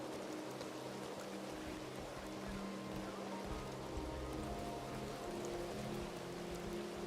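Rain in the RedM roleplay game, a faint, even hiss of falling rain with a low ambient hum beneath, continuous and unchanging throughout.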